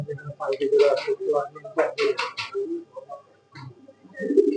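Pigeons coo softly at a pigeon market in Saruliya, their calls rising and falling beneath people talking close by.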